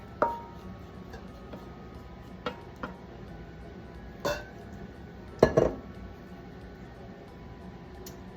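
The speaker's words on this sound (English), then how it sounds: "now we're gonna take that and just plop it right out into this oiled bowl" Focaccia bread dough plopped out into an oiled bowl in a home kitchen, a few soft thuds and sharp clinks of the bowl and utensils scattered over quiet room tone.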